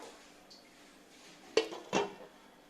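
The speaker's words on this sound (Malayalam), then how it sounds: "ഇനി ഇത് നമുക്ക് മൂടി വയ്ക്കാം" Lid placed over a cooking pot of Kerala-style mango pulissery in a home kitchen, giving two clear metallic clanks about a third of a second apart, close and moderately loud over quiet room tone.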